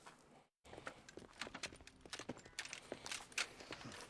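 A horse walking in the video game Red Dead Redemption 2, its hooves clip-clopping in a close, uneven rhythm with brief pauses and no voices.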